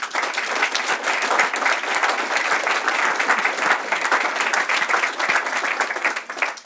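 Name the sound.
audience applause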